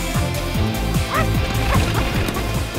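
A cartoon puppy barks in a rapid, loud series of yips over dense music and effects, the barks repeating steadily throughout.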